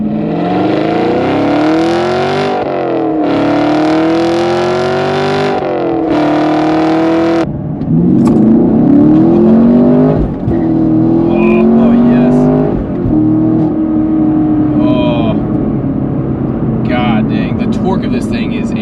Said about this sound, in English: I feel like we need to do a little acceleration in the Camaro